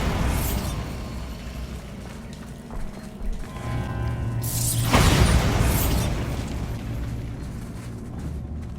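A Bombarda blasting spell cast in the video game Hogwarts Legacy, a single heavy boom with a broad roaring burst midway, rising out of rumbling game ambience and fading into a lingering low rumble.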